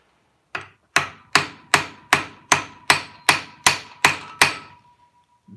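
Hammer tapping on a hydraulic pump during farm repair work: ten sharp, evenly spaced metallic blows close by, each ringing briefly before the next, with no talk.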